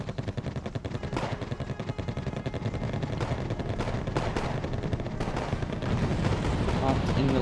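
Anti-aircraft fire from a platoon of Flak Panzers in the wargame Wargame: AirLand Battle, a steady dense rattle of rapid gunfire mixed with the battlefield din, loud and continuous throughout.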